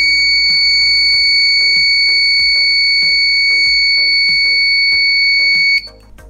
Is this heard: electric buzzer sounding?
yes